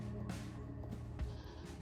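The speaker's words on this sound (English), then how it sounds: "I have several goats" A goat on a small farm bleats twice, close and fairly loud, with short wavering cries over a low ambient background.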